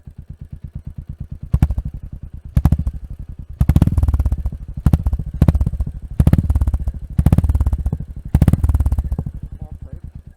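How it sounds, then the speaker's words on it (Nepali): A Royal Enfield Hunter 350 motorcycle with a modified exhaust idles with a loud, deep, close thump and is revved in several sharp bursts that rise and fall back to a lumpy idle. "ल एक्जस्ट नोट पनि सुनिदिउँ ल एकताली।"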